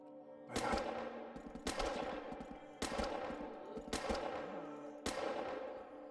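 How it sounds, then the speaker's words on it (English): Shotgun blasts in the game Outbreak: The Nightmare Chronicles, five loud evenly spaced booms about a second apart, each ringing out briefly over low background music. "Oh, I love this shotgun."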